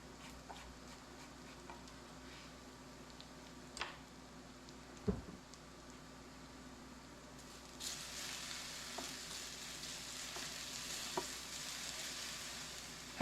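Hash browns and chopped onion fry in a pan with a steady, soft sizzle throughout, broken by a few sharp clicks and taps, the sizzle rising and brightening partway through.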